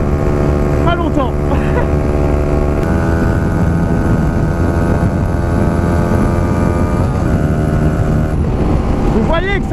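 A small 125cc motorcycle engine drones steadily and loudly, its pitch rising and falling through gear changes, with someone talking over it.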